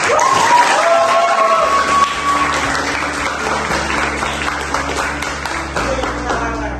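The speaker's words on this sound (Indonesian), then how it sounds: "Tepuk tangan buat Yara" A classroom of students applauds a classmate, dense steady clapping from a group nearby, loud and sustained, with a few voices and a faint tone under it.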